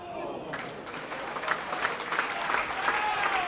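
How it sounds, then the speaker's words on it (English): Plymouth Argyle fans applauding in the stadium during a 1997/98 match against Wrexham, a broad crowd clapping and cheering that swells toward the end, with a commentator's voice faintly under it. "The Argyle fans applaud, but it's rather premature because the ball's still in play."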